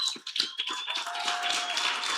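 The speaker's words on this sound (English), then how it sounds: "Can we just give Professor Manivi a round of applause?" Audience applause for a professor at a career day event, heard as a quick patter of light claps that builds into steady, dense clapping close by, with no talking over it.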